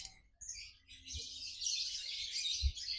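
A male fighter lovebird chirps in a fast, high, continuous twitter, close and clear, with a couple of soft low thumps beneath.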